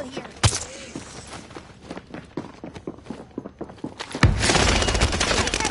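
Bursts of rapid gunfire and scattered shots in an online multiplayer shooter game, loud and close, over shuffling footsteps, with a dense roar of fire building near the end.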